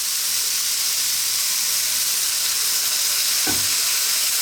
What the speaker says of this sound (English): And then we're going to stir for a few seconds